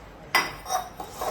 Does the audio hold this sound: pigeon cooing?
no